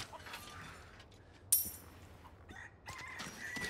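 Chickens cluck in the video game Resident Evil 4, a few short scattered fowl calls over quiet ambience with a sharp clink partway through.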